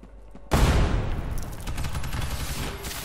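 Sustained rapid gunfire rips through a firefight in the shooter video game Ghost in the Shell: First Assault, starting with a sudden loud burst and continuing as dense, rattling automatic fire with a few booming impacts, heard alone without talk.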